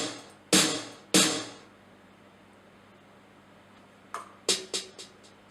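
Two strong drum hits, a pause, then a quicker run of four or five lighter percussive strikes, all crisp programmed drum sounds with no voices.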